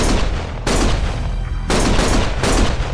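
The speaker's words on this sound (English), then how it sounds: "Stop shooting!" Gunfire in the video game Lost Judgment, a loud, dense burst of shots that comes in repeated volleys with short lulls between them and no voices over it.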